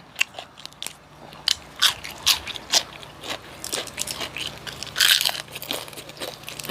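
Repeated crunchy bites into pickled bamboo shoot soup, an Isan-style sour bamboo dish, close and crisp, several sharp crunches with chewing between and a louder burst near the end, no talking.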